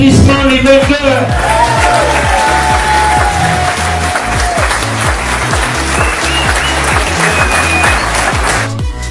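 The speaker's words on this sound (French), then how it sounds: "Sous vos applaudissements les vainqueurs." Audience applause for the winners at the close of the 68th Neige et Glace stage event, steady dense clapping with a few shouts, loud and sustained throughout.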